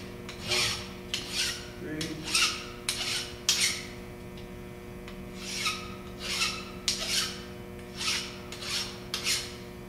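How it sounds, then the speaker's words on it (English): A metal hand file deburrs the edges of a machined part in a steady series of about a dozen rasping push strokes, each a bright scrape followed by a short pause, close and fairly loud. "You can see if we file like this"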